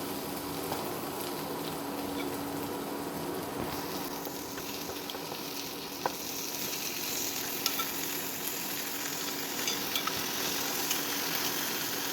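Chicken pieces frying with small shallots and tomato in a pan for a chicken roast, a loud continuous sizzle and bubbling hiss with occasional clicks of stirring, no voices.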